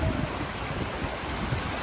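A continuous roar of a strong, rushing river in Candaba, Pampanga, fills the clip, broad and turbulent, with some wind buffeting the microphone.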